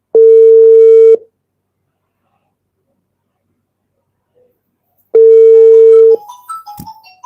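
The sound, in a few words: telephone dial tone of incoming call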